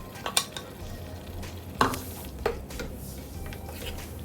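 Ground masala is stirred into chicken curry frying in a pan, with a steady sizzle and occasional scraping clinks of a spoon against the pan.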